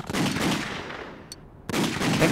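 Gunfire in the PS3 video game The Godfather: Don's Edition: dense, loud bursts of rapid shots, then a short lull before another burst of sustained firing.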